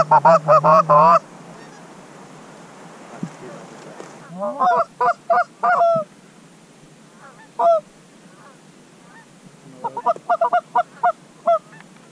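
Canada geese honk in loud, repeated bursts while out hunting: a burst at the start, a cluster around the middle, and a rapid run near the end, with quiet gaps between.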